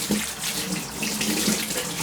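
A kitchen tap gushes steadily while fresh coriander is washed under it, a close, continuous splashing with no voices.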